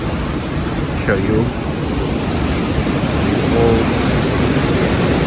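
A waterfall at Gold Creek in Juneau, Alaska, a former gold-mining creek, produces a constant, broad rushing roar, with someone talking briefly over it.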